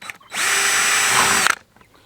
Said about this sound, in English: we're going to drill a hole, and this hole is going to be 5/16